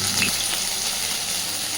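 Soya chunks fry in hot oil in a pan, a continuous, even sizzle heard close up without any speech.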